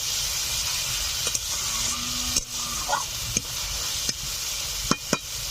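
Poppy seeds and cashews frying in a pan for a katla fish kalia, with a constant soft sizzle under repeated knocks and scrapes of a stirring spoon against the pan.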